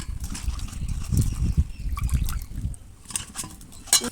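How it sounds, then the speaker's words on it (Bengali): Cauliflower florets drained out of salted water in a home kitchen, giving a close, uneven sloshing and trickling of water with short splashy bursts and brief pauses over about four seconds. "কপিগুলো নুন জল থেকে ভালো করে একদম ছেঁকে নিচ্ছি"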